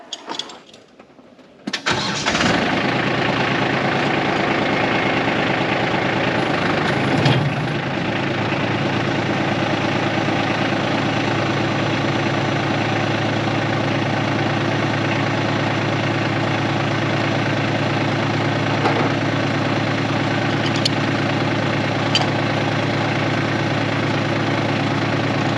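A tractor engine cranks and catches, then settles into a loud, steady idle that chugs on unchanged, close by, with no voices.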